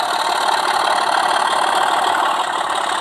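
A model Class 24 locomotive runs on a test track, giving a steady, loud electric motor whine with a continuous mechanical hum throughout and no talking.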